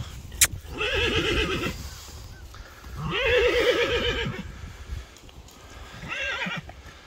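A horse whinnies three times with long, wavering neighs separated by short pauses, with faint hoof clatter and rustling in the background.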